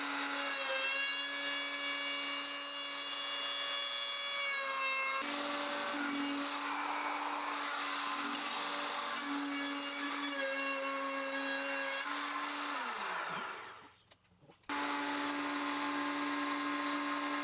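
A router rounding over the back edge of a wooden shoe bench, a steady high-pitched motor whine that shifts in tone as it cuts, then winds down near the end, stops briefly, and starts up again.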